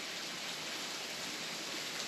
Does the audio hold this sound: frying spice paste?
no